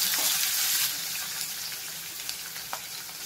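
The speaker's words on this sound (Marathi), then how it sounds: "आणि हा लसूण थोडासा लाल होईपर्यंत त्याला शिजूया." Garlic frying in hot oil with asafoetida for a prawn pickle, a steady crackling sizzle with occasional sharper pops, close and alone.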